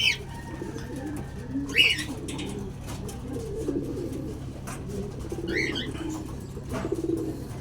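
Pet pigeons coo softly and repeatedly close by, low rolling coos spread across the clip with a few brighter chirps and a light rustle, over a faint steady hum.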